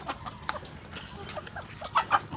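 Farm chickens cluck softly in short, scattered bursts nearby while feeding, with a steady high-pitched hum in the background and no talking.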